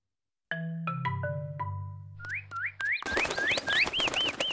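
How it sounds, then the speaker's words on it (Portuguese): Cartoon birds chirping: a few plucked tones lead into a run of bright whistled chirps that rise in pitch, repeated in a quick rhythm and fairly loud. "Olha, os passarinhos voltaram."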